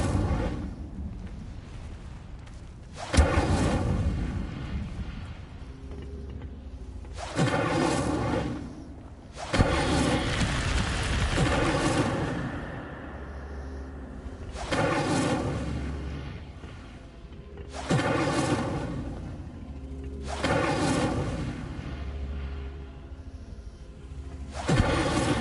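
Incendio fire spells cast repeatedly in Hogwarts Legacy, about six loud whooshing, roaring flame bursts, each a few seconds long and separated by brief quieter gaps, with no talking.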